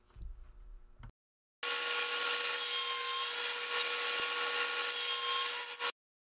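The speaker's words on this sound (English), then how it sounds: "With my dado blade still in place, I cut the notches out for the holding boards." A dado blade on a saw cuts notches one inch high and two inches wide into wooden holding boards, giving a loud, steady whining cut for about four seconds after a brief lower rumble, then stopping abruptly.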